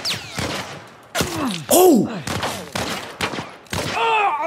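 Bursts of gunfire during a fight in The Last of Us Part 1, several sharp, loud shots spread across the moment, mixed with excited talk and a shout.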